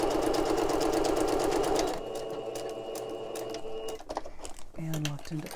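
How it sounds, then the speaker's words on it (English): Sewing machine stitching along the bottom of an ephemera piece, a steady rapid mechanical whir that runs loud and continuous for a couple of seconds, then gives way to quieter handling clatter and brief tones. "for the sake of ease and speed, I often will just sew along the bottom."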